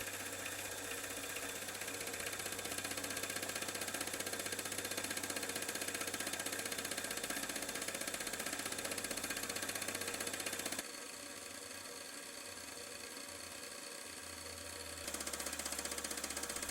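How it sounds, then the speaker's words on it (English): A parallelogram fly cutter milling across metal, a steady loud mechanical whir with a fine rapid chatter that runs unbroken, drops briefly to a softer tone, then resumes. "as the fly cutter moves across, you see those seams disappear just like magic"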